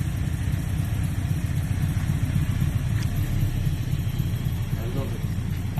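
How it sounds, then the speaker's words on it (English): A deep, steady V8 engine rumble from a 1969 Ford Capri idles throughout, low and throaty with a slight uneven lope, close by and continuous. "Sounds so sinister, that rumbling V8."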